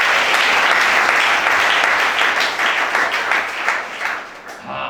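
A church congregation applauds in a steady, loud wash of clapping that holds throughout and tapers slightly near the end.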